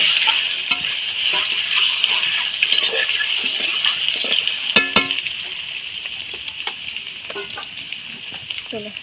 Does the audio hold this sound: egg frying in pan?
yes